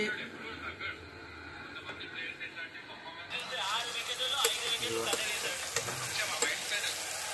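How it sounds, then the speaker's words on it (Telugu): Chicken curry bubbles and crackles as it boils in a pot on a gas stove, a busy, close, sizzling churn that grows livelier partway through while people talk over it. "ఇది బుడబుడా ఉడుకుతుంది."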